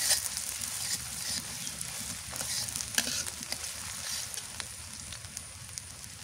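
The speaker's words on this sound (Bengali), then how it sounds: "পেঁয়াজ ভাজা হয়েছে" Onions fry in an old, long-used kadai over a steady, close sizzle, with occasional scrapes and knocks from stirring throughout.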